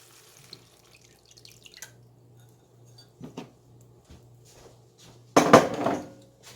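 Milk poured into a pan while making creamy Tuscan shrimp with tomatoes: a short, close liquid splash and gurgle bursts out near the end after quiet kitchen clatter and a low hum.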